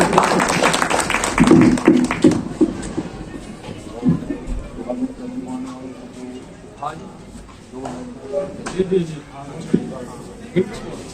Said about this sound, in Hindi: मैं आप सभी साथियों से कहूँगा उनके लिए जोरदार तालियों से स्वागत कर रहा हूँ